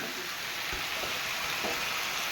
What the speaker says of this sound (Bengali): এ পাশে আমি কলাটাও ভেজে নিচ্ছি দেখতে পাচ্ছ দুই দিকে দুটো চলছে আর করলা ভাজা চলছে